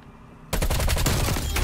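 QBZ-83 assault rifle fire in Call of Duty Black Ops Cold War: after a short quiet lead-in, a loud, close, sustained automatic burst of rapid, evenly spaced shots.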